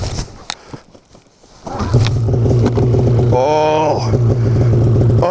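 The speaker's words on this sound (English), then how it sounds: "oh, listen to that. Wow, it's got this nice deep raspy tone." A snowmobile fitted with an aftermarket GGB trail can exhaust revs up, a deep raspy engine roar that swells and holds, after a short exclamation from a voice.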